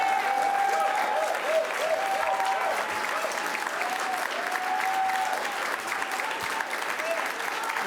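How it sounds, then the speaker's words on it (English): A crowd at a government water infrastructure announcement applauds a sewer crew, with dense, steady clapping throughout, some cheering tones, and voices mixed faintly beneath. "let's hear a round of applause for our sewer crew"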